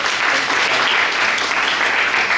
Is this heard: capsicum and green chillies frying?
no